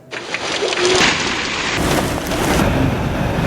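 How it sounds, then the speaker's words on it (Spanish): Heavy, dense rain with hail pounding down with a roaring wash of sound, loud and continuous, like a storm beating on surfaces, in Bogotá. "Una tormenta con granizo se vivió hoy en Bogotá."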